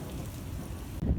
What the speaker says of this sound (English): I'll post a video of what the storm looked like coming in.